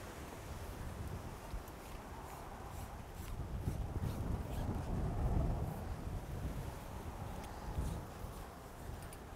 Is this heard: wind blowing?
yes